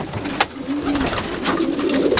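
A racing homer pigeon sitting on eggs coos nearby, a low throaty rolling coo that swells and repeats over steady background noise.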